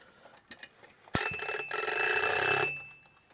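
A Westclox Lark wind-up alarm clock, just reassembled, rings in a bright metallic burst for about a second and a half after some small handling clicks, then fades out.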